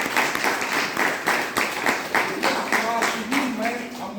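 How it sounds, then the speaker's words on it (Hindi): Audience at a DXN program in Gorakhpur clapping in a regular rhythmic beat, about two claps per second, with a voice talking over the clapping throughout. "उसके लिए आप एक जोरदार ताली मारिए"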